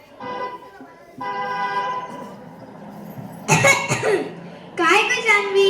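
A girl in a Marathi street-play skit on man-made disasters coughs from dust, two harsh bursts of coughing that follow a steady sustained tone, loud and close.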